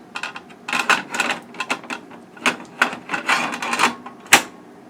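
Screws being driven to fasten a hard drive into a Cooler Master HAF X 942 full tower case, quick bursts of metallic ratcheting and clicking close up, with one sharp click near the end.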